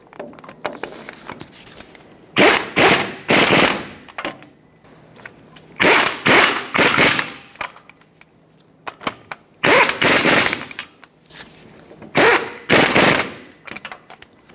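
Repeated bursts of a power tool snugging the ball joint bolts on a 2000-2005 Ford Excursion in a cross pattern, about five loud, close rattling runs separated by short pauses.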